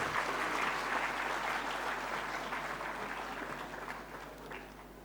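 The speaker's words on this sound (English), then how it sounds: "let's give a huge round of applause to welcome her." Parents applaud at a school annual day function, a fairly distant, diffuse wash of many hands clapping that slowly fades, with a steady low hum underneath.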